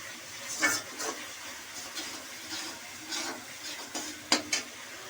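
Tomato and ginger sauté in a pan for paneer butter masala, a soft steady sizzle broken by occasional scraping and stirring clicks, fairly quiet and close.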